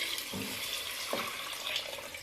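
Water pours steadily into a pot of browned mutton nihari on the stove, a quiet continuous splashing stream with faint gurgles.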